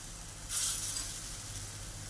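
Drumsticks and potatoes drop into hot oil with nigella seeds, with a soft rising sizzle about halfway through that settles into a steady faint frying hiss over a low background hum.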